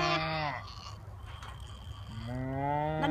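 Cows in a field give two long, drawn-out moos, loud and near, separated by a brief gap with faint background noise.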